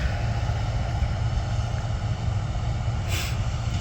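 A John Deere combine harvester works a dusty field at harvest time, its engine a steady, loud low drone with constant rumbling mechanical noise.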